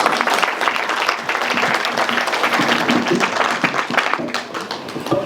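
A lecture audience gives sustained applause, steady and fairly loud, with many hands clapping together and a slight easing toward the end.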